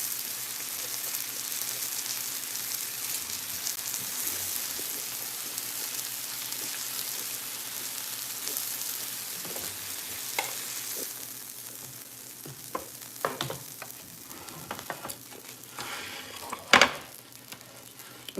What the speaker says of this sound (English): I fried the peppers and the sausage together.